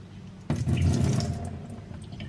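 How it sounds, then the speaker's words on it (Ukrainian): Water pouring out of a salad spinner after greens are rinsed, a sudden close splashing rush that starts abruptly and then settles into a steady trickle. "Дивіться, скільки води."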